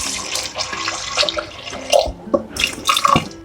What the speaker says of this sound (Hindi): अब देखते हैं इसमें पानी हम डाल रहे हैं।